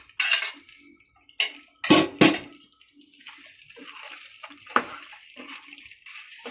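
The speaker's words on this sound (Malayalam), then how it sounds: "അപ്പം നമുക്ക് കുറേശ്ശെ ഇട്ട് കൊടുത്ത് ഇളക്കാം." Cooked macaroni being stirred into a spicy creamy chicken sauce in a pan, a spoon clanking sharply against the metal a few times before softer, wet scraping and stirring, close by.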